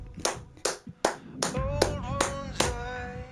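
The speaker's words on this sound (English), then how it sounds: "We gotta get a round of applause" Seven sharp, separate hand claps ring out close by in a slow, uneven rhythm, with a voice calling out in between.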